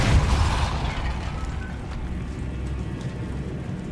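A Confringo fire-blast spell explodes in Hogwarts Legacy, opening with a loud, close, low rumbling burst that decays into a sustained crackling, rain-like hiss.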